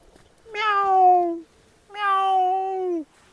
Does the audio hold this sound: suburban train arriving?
no